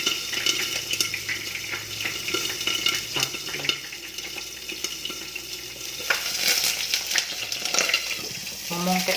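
Jengkol balado with eggplant frying in a pan, with continuous sizzling, popping oil, clattering spatula stirs and scraping against the pan throughout.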